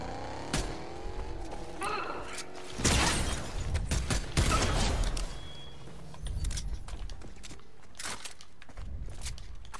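Car engine in a video game, revving and pulling away amid bursts of mechanical noise and impacts, loud in the middle and then fading, with a brief voice at the start.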